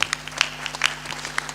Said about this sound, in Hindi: ताली बजा दो इनकी।